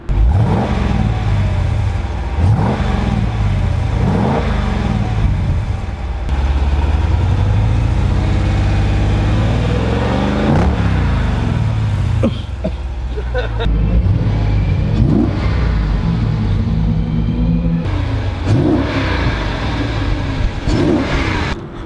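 American V8 4x4 muscle car engine and exhaust, over 500 hp, rumbling and revving in repeated bursts, loud and close, with someone talking over much of it.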